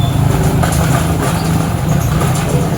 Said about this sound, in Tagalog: Hirap yung motor niya.